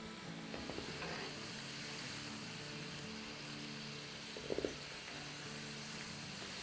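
Chopped potatoes frying in hot oil in a home kitchen for aloo chaat: a steady, even sizzle and bubbling hiss throughout, with a couple of faint utensil clicks and no talking.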